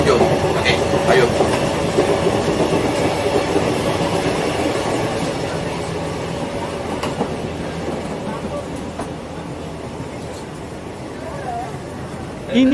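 A KTMB Jungle Train carriage runs on rails on the way to Johor Bahru, giving a steady loud rumble with faint clickety-clack and occasional light squeals. The sound comes from inside the moving train and continues throughout.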